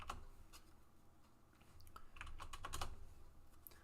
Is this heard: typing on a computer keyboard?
yes